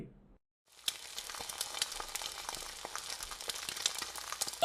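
Fish sizzles and fries in a pan in a Bengali cartoon kitchen, a steady crackling hiss starting after a brief silence, fairly quiet with small pops throughout.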